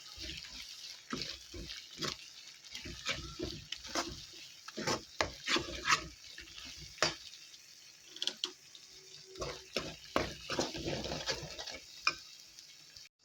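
Chicken pickle being stirred with chilli powder in a pan, giving irregular scraping and clacking strokes of a spoon against metal over a soft sizzle, close and fairly loud with no talking.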